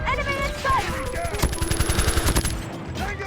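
Quick bursts of MK2 fire in Call of Duty Mobile, a cluster of sharp shots in the middle with game sounds and a high whine around them.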